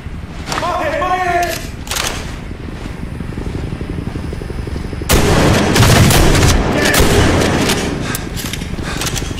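Heavy gunfire and explosive bursts from the military shooter Medal of Honor Warfighter on Xbox 360, loud and dense throughout, with a sharper, louder barrage after the midpoint and voices calling out under the din.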